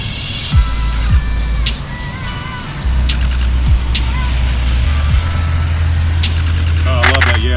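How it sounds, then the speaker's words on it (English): An outdoor scene with a car engine rumbling nearby as it idles and moves past, a low steady drone with small swells, under occasional camera clicks and short bursts of voices. "Wait for that car to move."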